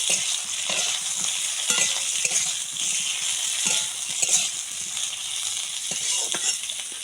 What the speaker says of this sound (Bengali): সামান্য তেলে আগে থেকে কেটে রাখা আলুগুলো দিয়ে ভালো করে ভেজে নেব